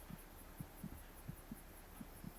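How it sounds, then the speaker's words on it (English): Human heartbeat, faint and muffled, with soft low thumps in a steady rhythm of about seven beats over a constant hum. "My heartbeat."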